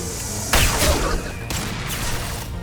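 Heavy weapon fire in the Mass Effect 2 video game bursts out as a loud blast, followed by a second heavy impact, with rumbling, crashing reverberation between the shots.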